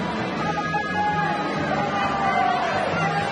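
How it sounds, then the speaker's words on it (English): Crowd murmur and chatter in the stands at an Australian Open women's tennis match between Mladenovic and Gavrilova, a steady moderate babble of many voices filling the arena. "And the crowd getting right into this"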